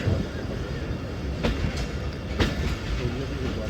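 A passenger train running from Gujranwala toward Lahore rumbles steadily from inside a carriage, with a loud continuous roll and two sharp clacks of wheels over rail joints.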